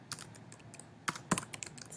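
Fingers type on a computer keyboard in quick, uneven clicks and taps, close and fairly quiet, with a few louder key strikes and no voices.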